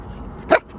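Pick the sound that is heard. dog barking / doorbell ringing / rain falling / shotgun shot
dog barking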